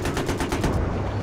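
Battlefield 3 video game gunfire at night during a tank assault: a loud, rapid burst of automatic shots in a steady rhythm, close and continuous, with a dense low rumble beneath and no talking.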